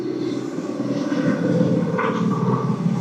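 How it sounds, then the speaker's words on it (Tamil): A military helicopter flies overhead in news footage from Venezuela, producing a continuous rumbling engine drone that holds steady and fairly loud throughout. "ஹெலிகாப்டர் ஒரு புறம் பறக்க கவச வாகனங்களோடு இந்த மிலிட்ரி வாகனங்களும்"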